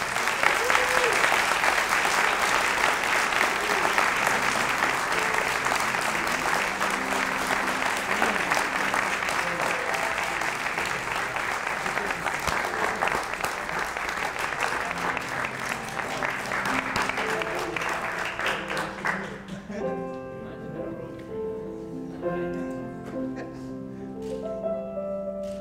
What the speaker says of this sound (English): please, a round of applause for the co-authors of Convicted, Jameel McGee and Andrew Collins